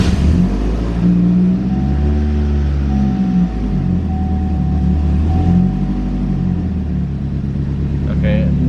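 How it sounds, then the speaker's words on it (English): A Chevy Malibu engine with an exhaust leak idles roughly and revs up several times, with a loud rattly exhaust rasp under each rise in pitch. "There is an exhaust leak, so you'll be able to hear the rev."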